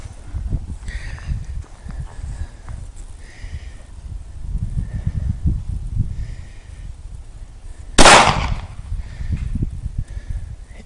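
A Glock 19 9mm pistol fires a single sharp, loud shot at a target, standing out sharply against a quiet outdoor background of light rustling and low rumble.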